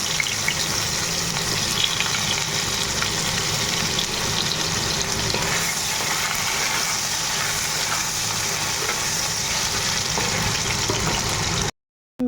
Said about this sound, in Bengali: জিরে তেজপাতা আর এলাচ দারচিনি দিয়ে দিলাম তেলে